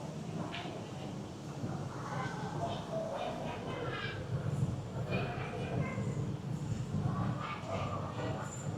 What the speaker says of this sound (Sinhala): නෑත එනවා අපි ටර්මිනල් 2 එකට යන ස්කයි ට්‍රේන් එක.